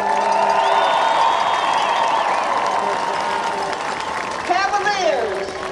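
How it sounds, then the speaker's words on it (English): A crowd at a high school football state championship applauds and cheers in a broad, loud, sustained roar, while an announcer's voice carries over it. "Let's applaud the effort of both of these teams."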